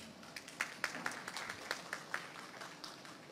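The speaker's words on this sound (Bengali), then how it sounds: "এই জন্য আমরা সবাই নিজেদের জন্য একটা হাততালি দিতে পারি।" An audience at a political meeting claps, the scattered, fairly soft handclaps landing unevenly and separately rather than blending into a roar, heard from a moderate distance.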